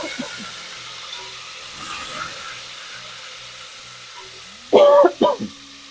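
Ginger garlic paste frying in a pan for a fish curry, a low steady sizzle with stirring scrapes, then a few loud sharp bursts of spitting hiss near the end.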